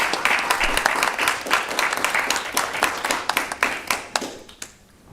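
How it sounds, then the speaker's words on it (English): A room of attendees at a city planning commission meeting claps together in a lively round of applause that thins into scattered individual claps and fades out near the end. "if you'll join me in a big round of applause for Pat"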